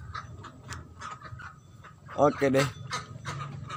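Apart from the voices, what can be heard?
ducks in a backyard pen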